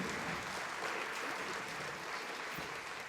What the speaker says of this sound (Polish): Gorące brawa, kabaret niekiepscy.